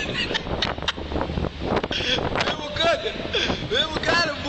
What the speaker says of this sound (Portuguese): O vento tá forte demais aqui, viu?